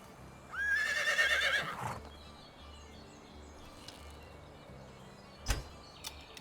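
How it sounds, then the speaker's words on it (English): A horse in the video game Medieval Dynasty gives one loud, close whinny lasting about a second, followed by faint hoof clops and a short sharp knock. "Call my horse so it's a little bit closer."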